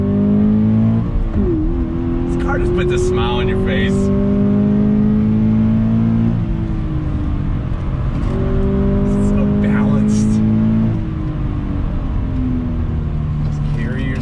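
A 2020 Toyota 86 Hakone Edition accelerates hard on throttle, its engine note climbing steadily through repeated rising sweeps with gear shifts between, loud and close, while someone talks over it.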